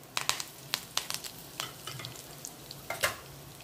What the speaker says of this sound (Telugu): ఇదిగోండి తాళింపు వేగిపోయింది.